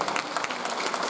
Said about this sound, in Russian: Аплодисменты им.